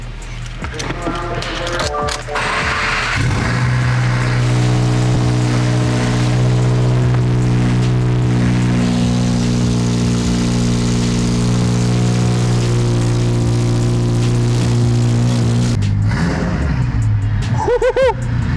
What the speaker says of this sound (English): Car's off the lift, let's get a cold start. With straight back, no mufflers.